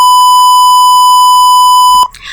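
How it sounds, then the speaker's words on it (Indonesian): An Arduino-based IoT temperature and humidity monitor's buzzer sounds a danger alarm as one loud, steady, unbroken beep lasting about two seconds, then cuts off abruptly. "sistem memberikan status bahaya dengan LED merah menyala dan buzzernya juga aktif"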